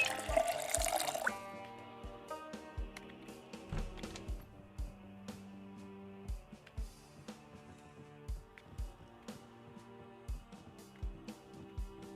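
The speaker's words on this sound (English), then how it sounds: "Let's fill our water bottle." Water running from a tap into a bottle in the Project Zomboid video game, a steady trickle with scattered drips and clinks over a low game ambience, no talking.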